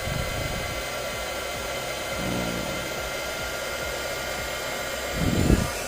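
A Mini Hot Gun 8858 II hot air gun blows with a smooth, steady whirring hiss close to the microphone, with a brief louder whoosh near the end.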